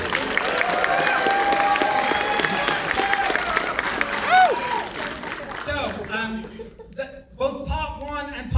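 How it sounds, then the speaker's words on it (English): Cinema audience applauding a staff member at a screening, clapping and cheering mixed with crowd chatter and speech, loud and dense, thinning out toward the end. "Can we have a round of applause for Ashley?"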